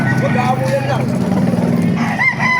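Chickens and roosters at a poultry market in Baliuag, with crowing and clucking close by. People talk throughout and traffic hums in the background.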